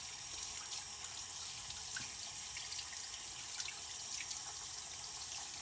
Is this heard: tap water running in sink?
yes